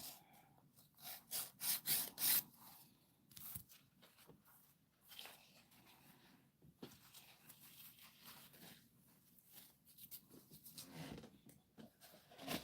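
Acrylic nails are filed with a coarse 8 grit file, giving quiet, uneven rasping strokes, a quick burst of scraping followed by sparser, softer rubs.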